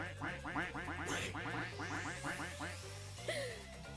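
A rapid run of cartoonish duck quacks plays as a livestream alert during a Raincode gaming stream, busy and repetitive, ending with a rising boing-like swoop.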